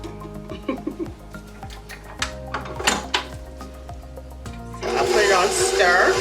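An electric mixer starts whirring through wet and dry cupcake batter for banana pudding or red velvet cupcakes, a loud, steady buzz arriving after some clinking kitchen sounds and a voice talking.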